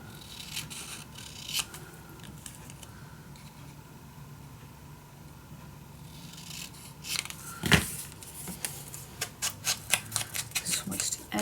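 Scissors cut paper for a handmade mini album, giving soft crisp snips and rustling near the mic. They start sparse, then quicken into a rapid run of short cuts near the end.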